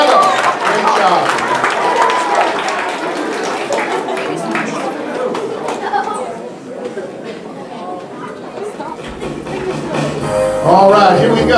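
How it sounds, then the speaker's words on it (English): Audience applause at a talent show for a chef, a broad wash of clapping and crowd noise running under a presenter's amplified talking, easing somewhat in the middle before swelling again at the end. "How about a round of applause for Chef Lou?"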